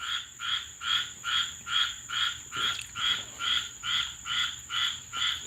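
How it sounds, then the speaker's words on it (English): Frogs croak in a steady, rhythmic chorus, about two pulsing calls per second, loud and close, with a faint high insect-like tone above. "those are frogs."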